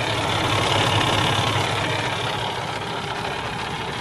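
A 2012 Freightliner Cascadia 125 truck with a 450-horsepower Cummins ISX engine idles steadily at close range, giving a continuous dense rumble with no talk over it.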